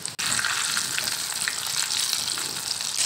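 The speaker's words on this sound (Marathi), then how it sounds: "आता त्याच्यामध्ये हे चिकन आहे मी तळून घेत आहे।" Chicken popcorn pieces deep-fry in hot oil over a medium flame, giving a steady, loud, dense crackling sizzle with no talk.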